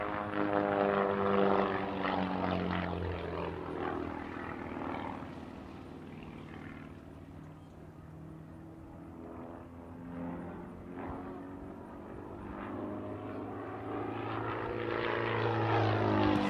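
A propeller-driven aerobatic plane dives low over an airshow crowd, its engine a loud, steady drone whose pitch swells and sweeps as it closes in and pulls away, under a faint announcer's voice.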